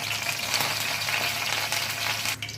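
Steady, dense crackling and sizzling of curry leaves frying in hot oil, continuous and close, with no voices.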